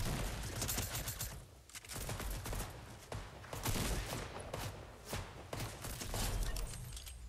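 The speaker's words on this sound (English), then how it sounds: "Yes, now I can actually use a shotgun." Rapid, dense gunfire in a video game, with shotgun blasts among loud repeated bursts, continuous and close for several seconds, with no voices.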